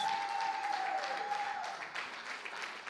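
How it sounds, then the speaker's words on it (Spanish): Church congregation giving applause during a service, a steady spread of clapping that stays even and moderately distant, with a faint sustained tone in the room during the first half. "Démosle un aplauso al Señor."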